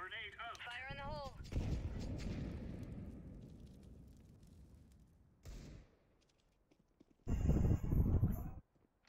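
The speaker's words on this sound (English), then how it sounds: "Grenade out. Fire in the hole." A grenade detonates in the video game CS:GO, a loud booming explosion with a long rumbling decay, followed by further gunfire-like bursts later; a voice talks briefly at the start.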